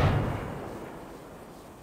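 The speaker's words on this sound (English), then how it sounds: "We can shoot one of the barrels." A single heavy boom from a shot barrel in a 3D RPG game, one sharp low-frequency blast that fades in a rumbling tail over about two seconds, with nothing else heard.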